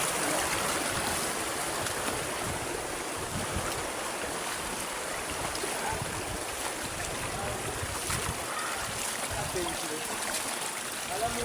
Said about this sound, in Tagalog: Ilog na, malinaw.